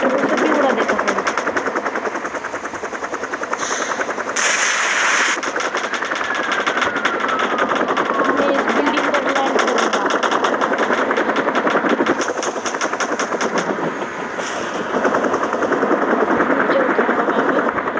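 Helicopter under gunfire in the mobile game Rope Hero Vice Town, with a steady rotor-and-engine drone overlaid by rapid bursts of automatic fire and short blasts, loud and continuous throughout.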